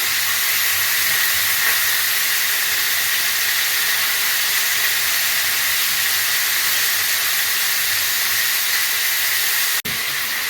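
Meat sizzling and searing in a hot pan, a loud continuous hiss that holds steady before cutting off briefly near the end, with no talking.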